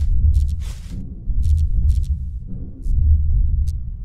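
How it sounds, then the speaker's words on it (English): A flickering neon sign in a dark, atmospheric video game gives a pulsing low electrical hum. Brief crackling bursts of buzz come and go irregularly as the light struggles on and off. "you can hear the electricity flicker as it struggles to flow"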